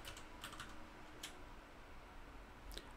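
Someone types a password on a computer keyboard, producing a few soft, scattered key clicks, close but faint, over a steady background hiss with no talking.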